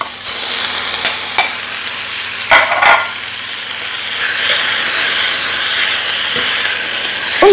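Chicken searing in a hot pan with onions, a loud continuous hissing sizzle close up, with a few scraping stirs and spoon knocks early on, no talking.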